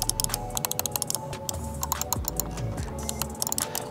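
Buttons on a wireless gaming mouse are pressed repeatedly at close range, giving sharp, crisp clicks in quick irregular bursts over faint background hum.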